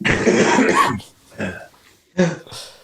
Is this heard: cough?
yes